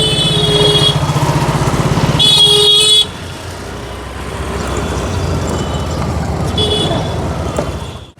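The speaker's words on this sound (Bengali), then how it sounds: "স্কুটিতে করে দুজনে মিলে যাচ্ছি" A scooter carrying two people rides along a road toward Darjeeling. Steady engine and road noise runs throughout, with bursts of car horns and other traffic nearby, including a longer honk early on and a shorter one near the end.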